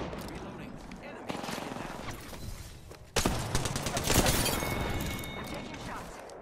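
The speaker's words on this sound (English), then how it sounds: "The enemies are shooting at me." Gunfire in Apex Legends played as Pathfinder: dense bursts of automatic fire and single shots rattle throughout, growing louder after a sharp jump midway, with impacts and crashes mixed in.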